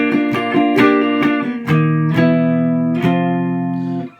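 Electric guitar playing the transitional passage of a song, a quick run of plucked notes and chord hits that settles into sustained ringing chords, clear and close with no talking.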